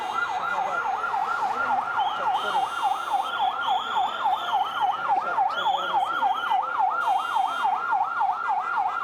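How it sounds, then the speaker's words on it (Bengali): An ambulance siren wails in a rapid, regular up-and-down cycle, loud and continuous as it passes through a street procession, with crowd noise and faint traffic underneath and a few higher horn-like tones. "অ্যাম্বুলেন্স যেতে দিন, অ্যাম্বুলেন্স যেতে দিন।"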